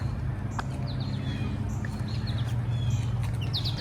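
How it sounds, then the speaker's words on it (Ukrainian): Birds among wildflowers give faint, scattered high chirps and tweets over a continuous low background rumble. "пташки співають."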